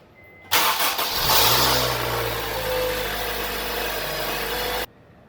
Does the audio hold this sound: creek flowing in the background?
no